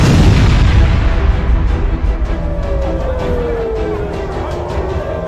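A Houthi missile and rocket attack on Tel Aviv produces a loud, dense, sustained rumbling roar with a falling whistle-like whine, heavy and close with no distinct separate blasts and no voices.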